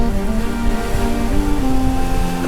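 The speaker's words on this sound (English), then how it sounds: "some of these bigger waves. Big one came past there" Big ocean waves rush past a sailboat in a continuous loud surge of water and wind, with a steady engine drone running underneath.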